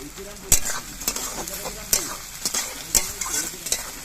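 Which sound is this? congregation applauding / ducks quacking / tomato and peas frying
tomato and peas frying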